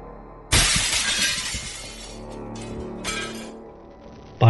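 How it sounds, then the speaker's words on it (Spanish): Glass shatters in one sudden loud crash, followed by tinkling shards scattering and a second smaller burst of breaking pieces before a fresh impact at the very end. "un escalofriante sonido de vidrios rotos hizo que la madre corriera al cuarto"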